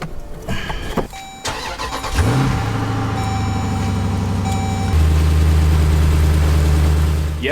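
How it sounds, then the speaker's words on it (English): A Jeep starts up and settles into a steady, loud idle in a driveway on a windy day, its low engine drone continuous and close. "my Jeep is in the driveway running without me in it because it's really windy outside"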